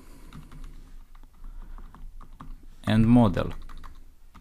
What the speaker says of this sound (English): So I'm gonna type here color